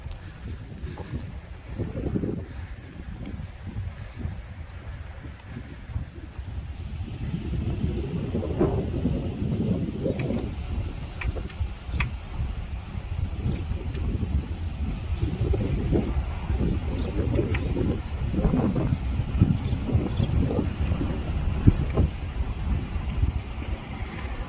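Strong outdoor wind buffeting a microphone by a prison sidewalk in Georgia, a continuous low rumbling roar with gusting surges, loud and close, with no clear talk.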